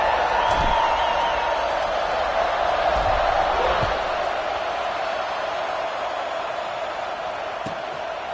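Steady broad roar of a football stadium crowd in a college football video game, UNC versus Clemson, during a kickoff after a drive, cheering continuously at a constant level with a faint whistle-like tone early on and a few thuds.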